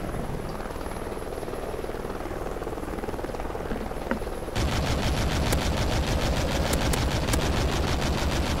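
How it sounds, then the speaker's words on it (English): A friendly helicopter in a Prison Break map of a shooter video game, its rotor throbbing loud and steady throughout, joined halfway by a denser roar with rapid bursts of gunfire layered over it. "Friendly Helo pilot active."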